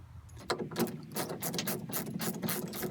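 Half-inch socket ratchet loosening the clamp bolts on a pickup camper shell, a rapid run of sharp metallic pawl clicks in quick bursts, close and clear with a low background hum.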